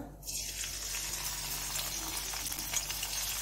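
Cumin seeds and dried red chillies hit hot oil with a sudden steady hiss of sizzling spitting that holds close and even without pause.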